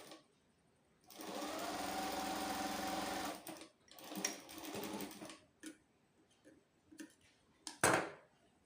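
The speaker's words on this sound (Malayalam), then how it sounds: "അന്നേരം നമുക്ക് ആ 3 ഇഞ്ചിൽ ഇങ്ങനെ തയ്ച്ചു കൊടുക്കാം" A sewing machine stitches a pencil pant seam, one steady whirring run of about two seconds followed by shorter bursts and clicks of handling, close and clear.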